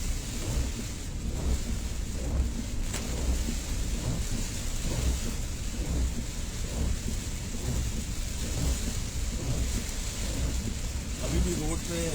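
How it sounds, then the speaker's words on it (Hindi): Heavy rain from cyclone Biparjoy pours down over the streets and low-lying settlements of Kishangarh. It makes a dense, constant hiss with a low rumbling underneath that holds steady throughout. "बारिश काफ़ी तेज़ है"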